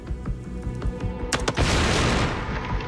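A Luger 9mm pistol fires at a target 36 metres away, giving a sharp loud crack around the middle followed by a dense, rumbling burst as the target explodes, over a busy background of other sounds.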